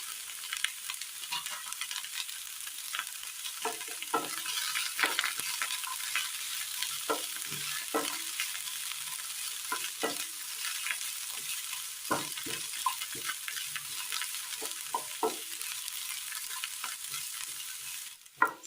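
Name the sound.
onion and green chillies sautéing in a pan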